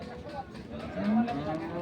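A bull at a cattle market ahead of the Qurbani festival lets out a single drawn-out, fairly loud moo midway through, over a busy murmur of market crowd noise.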